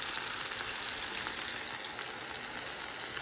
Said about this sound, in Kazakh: Енді тавамызға аз ғана сұйық майды құйып, қызып тұрған сұйық майдың үстіне тефтелилердің барлығын саламыз.